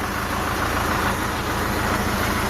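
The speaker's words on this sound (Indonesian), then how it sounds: "Selebihnya suara diesel yang sehat ya kayak gini" A Kia Carnival diesel turbo engine idles at close range, giving a steady, even rumble with a low rhythmic knock throughout and no voices over it.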